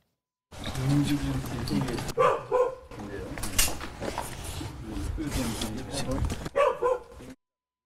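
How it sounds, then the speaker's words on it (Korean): A dog barks repeatedly outside a house where a news crew stands at a locked door, the barks coming in bursts mixed with people talking throughout. "또 이 현장에서는 개 짖는 소리가 울려 퍼졌었거든요."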